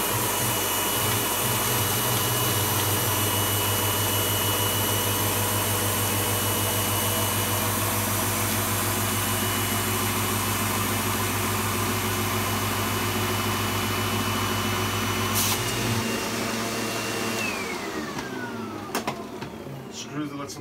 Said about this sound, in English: Switch your vacuum on.